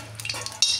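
Asafoetida dropped into hot oil, a quiet moment then a sudden sharp burst of sizzling near the end of a very short stretch.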